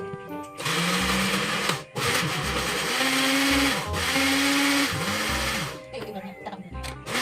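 A blender whirs loudly mixing aloe vera and egg, its motor pitch rising and dipping as it pulses on and off, with voices talking underneath.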